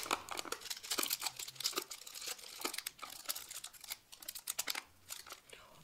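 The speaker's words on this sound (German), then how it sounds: "Jetzt zieht ihr das Papier noch etwas glatt" Sheets of paper rustle and crinkle steadily as they are smoothed flat over a homemade kazoo, with dense, close crackling and short bursts of handling throughout.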